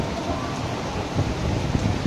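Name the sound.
heavy rain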